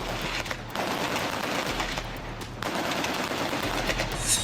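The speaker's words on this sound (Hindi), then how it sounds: "तड़ातड़ गोलियां बरसने लगी।" Rapid gunfire raking a Venezuelan boat at sea after a strike, dense machine-gun bursts rattling continuously over a noisy roar with brief lulls, loud and close, without talk.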